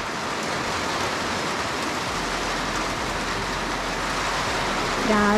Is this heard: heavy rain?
yes